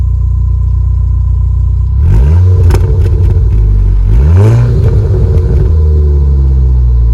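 A deep, throaty engine of a Volkswagen Golf R (sixth generation), not cold, idles close by, with two quick revs that swell and fall back into the steady rumble.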